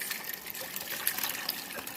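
Steeped hollyhock jelly liquid pours through a strainer in a short, steady stream, a soft continuous splash and trickle with no talking.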